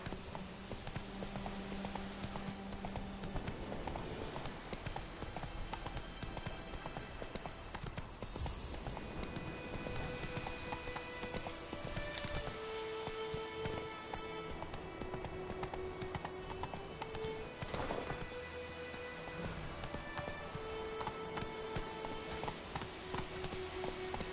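Roach the horse galloping in The Witcher 3: Wild Hunt on PS4 Pro, a steady rhythmic clip-clop of hooves running through the whole stretch beneath game music and ambient effects.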